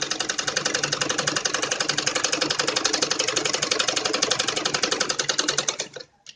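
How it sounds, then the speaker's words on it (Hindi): A sewing machine runs in a fast, even stitching rhythm as net cloth is sewn onto salwar lining, loud and close, then stops abruptly near the end. "पहले हम अस्तर के ऊपर ये नेट सिल के तैयार कर लें"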